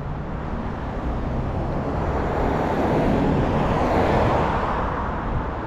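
A truck passes on a road beside someone walking, its broad, steady roar blending with traffic noise and swelling slightly louder toward the middle before easing off.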